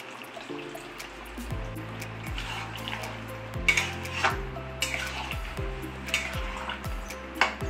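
Two cups of liquor tea poured into mutton kosha in a pan, heard as a soft sizzle and watery splash with repeated clinks and scrapes of a metal spoon stirring the meat.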